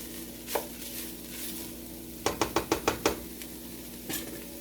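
Minced garlic sizzles and fries in a pan while a utensil stirs it around, a quiet steady crackle broken by a quick burst of about six sharp scraping knocks against the pan.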